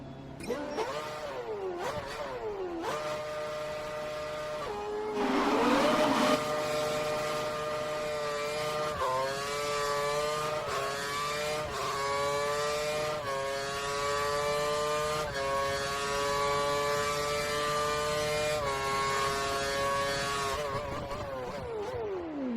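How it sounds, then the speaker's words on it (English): A Formula 1 car in the racing game F1 2013 accelerates with a high engine whine climbing through several gear shifts, sustained at speed, then winding down as it brakes to a stop. "Head down the track, accelerating past 257 kph, then brake so that you come to a complete stop in the designated area."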